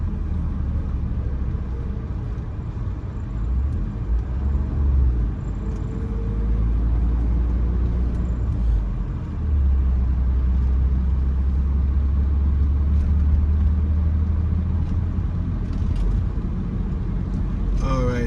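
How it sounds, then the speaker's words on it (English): A vehicle passes on a residential street at Gilbert Street and Newland Road in Charlotte's Lincoln Heights neighborhood, its low engine rumble steady and fairly loud throughout, heard from inside an idling car. "I'm gonna allow this vehicle to go by."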